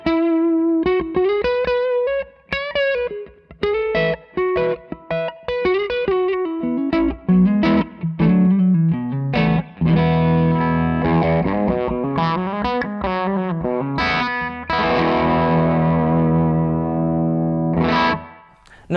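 An electric guitar plays through an overdrive pedal, a close, crunchy distorted tone mixing plucked single notes and strummed chords, ending on a long sustained chord, with no talk.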